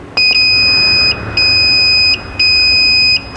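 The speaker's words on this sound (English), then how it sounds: "The machine beeps 3 times and it says save data." A wheel balancer machine gives three long, loud electronic beeps, each a steady high tone lasting under a second, separated by short gaps.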